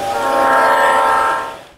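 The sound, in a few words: model trains running in a conservatory holiday display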